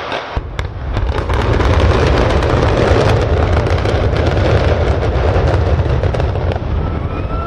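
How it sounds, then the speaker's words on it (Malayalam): Controlled demolition of high-rise apartment towers, including a 16-storey block, brought down with explosives: a few sharp cracks, then a loud, sustained roaring rumble of the collapse that goes on for several seconds. "രണ്ടാം ദിവസമാണ് താരതമ്യേന വലിപ്പം കൂടിയ ജെയിൻ കോറൽ കേവും വലിപ്പം കുറഞ്ഞ ഗോൾഡൻ കായലോരവും നിയന്ത്രിത സ്ഫോടനത്തിലൂടെ നിലം പതിച്ചത്"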